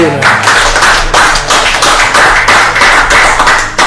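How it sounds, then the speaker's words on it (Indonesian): An audience claps hands in a loud, fairly rhythmic burst, sharp close claps repeating steadily for about four seconds. "Tepuk tangan dulu."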